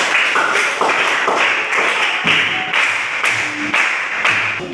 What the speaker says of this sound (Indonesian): kasih tepuk tangan buat teman-teman kalian